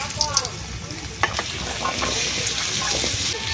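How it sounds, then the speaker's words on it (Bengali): Chopped potatoes drop into hot mustard oil in a kadai with a few clattering taps, then a loud, steady sizzle of frying fills the rest, close up and with no voices. "তেল গরম হয়ে গেছে, দিয়ে দিচ্ছি কুচনো আলু"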